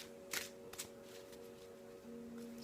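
Tarot cards being shuffled by hand give two quick, faint riffling bursts early on over a quiet, steady background hum.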